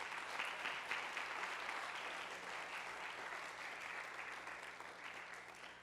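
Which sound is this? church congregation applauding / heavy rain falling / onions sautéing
church congregation applauding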